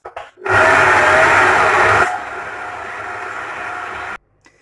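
A stand mixer kneads bread dough for small cheese rolls with a loud steady motor whir that drops to a lower, quieter hum partway through, then cuts off abruptly.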